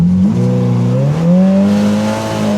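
A Polaris Pro R side-by-side engine revs hard in race mode, loud and close, its pitch climbing in a steady throaty roar.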